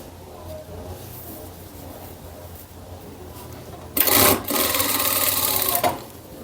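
A sewing machine stitches the side seam of a fabric bag lining, starting after a quiet stretch and running steadily for about two seconds, close and loud.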